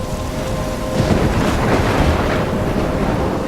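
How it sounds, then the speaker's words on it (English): Heavy rain pours in a Life is Strange thunderstorm, with a low rolling rumble of thunder swelling in the middle, loud and continuous with no talking. "I'm trapped in a storm?"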